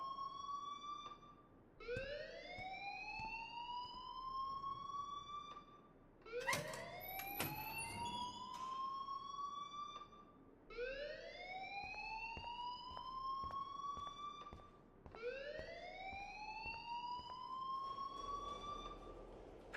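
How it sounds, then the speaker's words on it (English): A school alarm in the video game Life is Strange sounds in repeated rising electronic whoops, about five cycles spaced a few seconds apart, with a brief clatter in between, fairly faint and without speech. "please turn off that alarm since that's your job"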